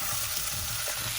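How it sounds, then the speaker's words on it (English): Pumpkin gets stirred into caramelized onion in a pot, giving a dense, steady sizzle with a soft churning texture, close and continuous for a brief moment. "Give that a good stir."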